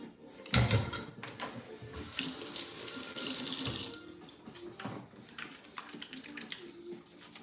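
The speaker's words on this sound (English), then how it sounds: "So I'm gonna wash my hands." Tap water runs into a sink in a home kitchen during hand washing, a close, continuous splashing stream that shifts in texture as the hands move under it.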